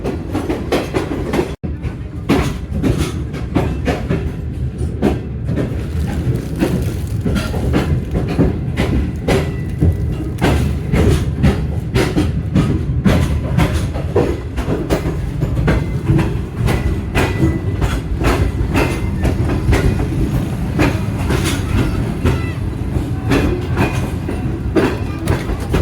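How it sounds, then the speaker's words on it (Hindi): A Pakistan Railways passenger train pulls out of Hyderabad, loud continuous rumble and rattling with rhythmic clickety-clack of wheels over rail joints, heard from inside a carriage without talk. "आप देख रहे हैं कि हमारी ट्रेन हैदराबाद से बाहर जा रही है"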